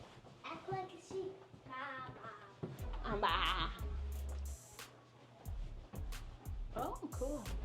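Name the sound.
child imitating a sheep bleating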